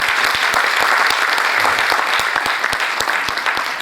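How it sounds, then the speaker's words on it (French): An audience claps at the closing ceremony of an urban planning master plan exhibition: dense, sustained applause at an even level for the whole span, with no voices over it. "Vous pouvez vous applaudir, c'est un succès."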